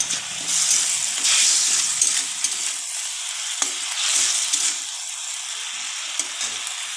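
Tomatoes and masala cooking in a pan, a steady close sizzle and hiss with scraping stirs and occasional spoon taps against the pan, with no voices.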